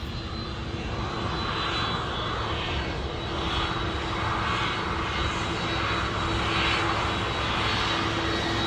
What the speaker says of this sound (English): Over here, this airplane just landed,